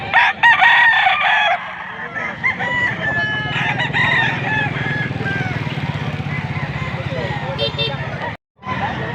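Golden Sweater gamefowl rooster at a bird market, crowing and clucking amid a busy crowd, with people talking over it and passing traffic noise.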